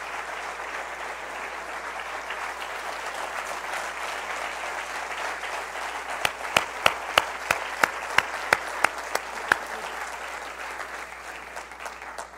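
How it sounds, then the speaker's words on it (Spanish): A church congregation at a Sunday service applauds in a steady, fairly distant wash of clapping. Partway through, a run of sharp, evenly spaced claps or beats stands out on top of it. "Apláudale si le va a aplaudir"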